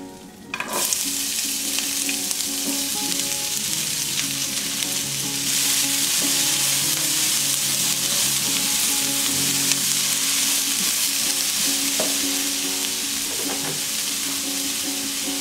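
Onions fry in a pan for a vegan meal, a steady loud sizzle with occasional scrapes of stirring, rising slightly in intensity midway and continuing alone without any voices.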